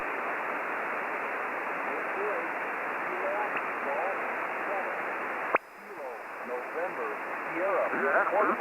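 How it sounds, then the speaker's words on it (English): Weak amateur radio signal on the 20 meter band buried in dense hiss and static, with faint interfering QRM chatter beside it; a sharp click midway briefly shifts the noise before it swells again toward the end. "You're way down in my noise, and I've got some QRM right beside of me too"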